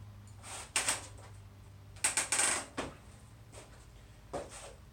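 A Hyper Cracker cassette removal tool clicks as a bicycle rear wheel turns while the nut stays put, giving several short bursts of quick, close ratcheting clicks separated by quiet pauses.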